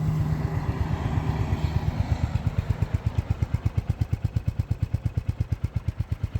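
A 2024 Royal Enfield Hunter 350 single-cylinder motorcycle idles steadily with an even, thumping pulse. The beat is close and clear, alone with no talk.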